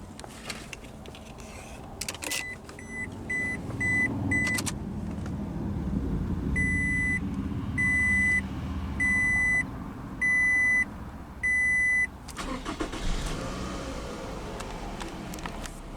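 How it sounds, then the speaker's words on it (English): A 2010 Scion tC engine starting and settling into a low, steady idle heard from inside the cabin, while repeated electronic warning chimes beep in evenly spaced groups over the hum. "let's go ahead and start the engine."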